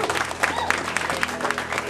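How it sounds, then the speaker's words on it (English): Audience clapping at a career technical education charter school gathering, a continuous round of applause with distinct individual claps standing out, moderately loud and steady. "One big round of applause for you being here."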